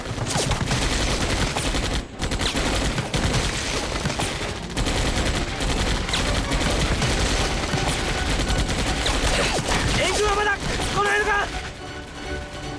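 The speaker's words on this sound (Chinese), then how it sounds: "枪声好像远了一些，似乎在走廊上" Gunfire crackles through a dense, loud war-drama scene set aboard a ship near a cabin door and corridor, buried under swelling music and shouting voices throughout.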